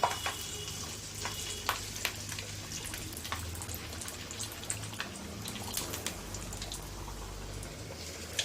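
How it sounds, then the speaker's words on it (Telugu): Telangana-style karam chekkalu, crisp spiced rice crackers, fry in hot oil with a dense, crackling bubble that stays close and fairly loud throughout, with scattered sharper pops. "ఒక పక్క ఫ్రై అయిన తర్వాత ఇంకో పక్క ఇలా తిప్పుకోవాలండి"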